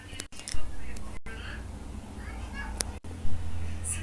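A house cat meows a few short times between pauses, fairly close, with faint rustling and handling noises around it.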